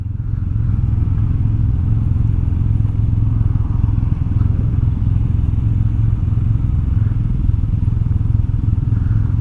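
A 2019 Can-Am Ryker three-wheel motorcycle rides along a California road, its engine holding a steady, loud low drone with constant rumble and wind noise throughout.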